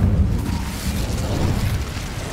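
Incendio fire spell cast in the cave in Hogwarts Legacy, a loud, low rumbling burst of flame that roars steadily for about two seconds with no voices.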